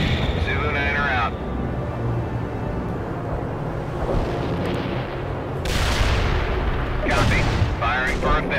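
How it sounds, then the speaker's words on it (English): An artillery barrage in World in Conflict brings a rumbling series of heavy booms and blasts, with bursts of impacts rising and falling under radio-style talk. "Artillery barrage turned the target area into dust."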